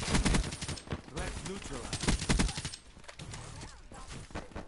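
Rapid gunfire in a video game while opening supply drops, a dense burst of quick repeated shots in the first few seconds that thins to scattered pops, with some voice chatter mixed in.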